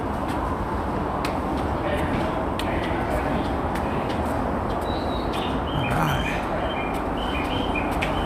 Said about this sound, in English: They pump in bird noises,